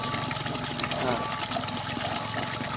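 A water pump powered by a cheap secondhand solar panel runs with a steady whirring hum and rushing water, continuous and fairly loud with a voice talking over it.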